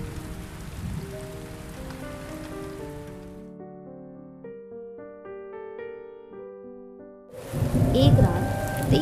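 Heavy rain pours at night at a poor family's house, a dense steady wash that drops away while gentle music plays, then surges back loud near the end.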